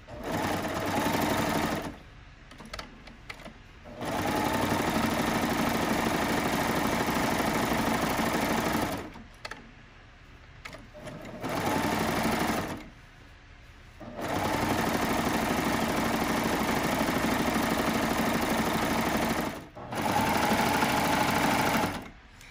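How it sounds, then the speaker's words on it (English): A serger stitches jelly roll quilt fabric pieces in loud, fast, steady bursts of several seconds each, separated by short pauses. "if you don't want to turn corners, then you can just serge all the way off."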